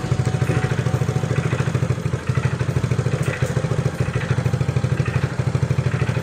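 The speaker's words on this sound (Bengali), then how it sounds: "বাইক নিয়ে এখন মামা বাড়ি যাচ্ছে" A motorcycle engine runs with a steady, rapid low throb and a faint mechanical clatter, close by and fairly loud, with no talking.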